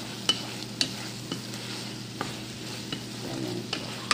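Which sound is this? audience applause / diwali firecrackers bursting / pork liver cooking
pork liver cooking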